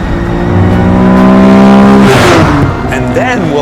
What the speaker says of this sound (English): the C10, the car that started it all